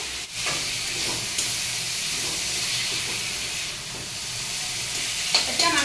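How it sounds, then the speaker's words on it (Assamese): Onions frying in a pan, a steady loud sizzle with a continuous hissing crackle throughout, a few brief stirring clinks near the end. "পিঁয়াজখিনি ভাজি থাকোঁতে আলুখিনিও দি লৈছোঁ।"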